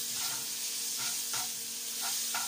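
Steady close sizzling of garlic frying in a hot pan for a tempering, a bright continuous hiss broken by a few short bursts of crackle as it is stirred.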